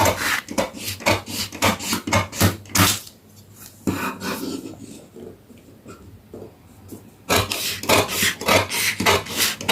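Scissors cutting through shirt collar fabric, repeated rasping snips in quick bursts, loud and close, with a quieter pause in the middle before the rhythmic cutting resumes.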